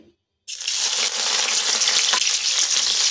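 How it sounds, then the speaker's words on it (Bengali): A spoonful of chopped garlic drops into hot oil for chow mein after a brief near-silence, bursting into a loud, steady sizzle with a small crackling pop partway through. "এখন ওই তেলে দিচ্ছি 1 চামচ রসুন কুচি।"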